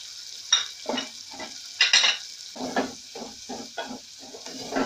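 Salt and masalas being stirred in a cooking pan while making pizza, with repeated close scraping strokes in a loose rhythm over a soft sizzle.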